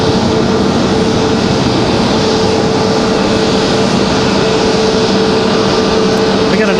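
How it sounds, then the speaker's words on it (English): A Delta Boeing 737 from Atlanta arrives at Raleigh Durham airport, producing a loud, constant jet rumble with a steady tonal whine. The noise stays even from start to finish, like a close, sustained engine drone. "Delta 1518 coming in from Atlanta, Georgia."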